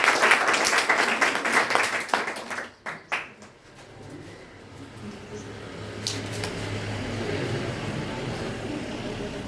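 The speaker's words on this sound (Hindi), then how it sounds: "रूपा के लिए बनती है एक जोरदार ताली" Applause at a toppers' award ceremony, a burst of clapping from the audience in the first few seconds that drops away and gives way to a softer hall murmur with a brief clap later.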